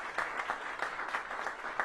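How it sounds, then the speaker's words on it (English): Audience applause at the opening of a DARCARS Automotive Group Polestar dealership in Washington, D.C., a short burst of steady crowd clapping at moderate volume. "Give them a big round of applause."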